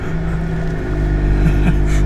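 A Volkswagen GTI engine on a tuned Stage 2 Golf R climbing a snowy winter hill gives a loud, steady low drone with a slight rise in pitch near the end, close and continuous.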